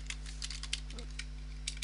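Rapid typing on a computer keyboard while naming a virtual machine during a Windows 8 installation, light irregular clicks in quick bursts over a steady low electrical hum, close and fairly quiet.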